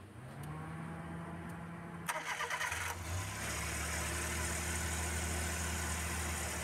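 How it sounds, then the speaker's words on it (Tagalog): A Suzuki vehicle with an electronic power steering fault has its engine started: a low idle hum, a rapid cranking chatter, then the engine catches and settles into a steady idle. "So pandiran muna natin yung engine."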